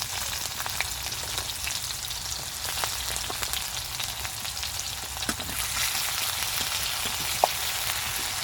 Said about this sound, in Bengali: পেঁয়াজটা হালকা করে আমি ভাজা ভাজা করে নেব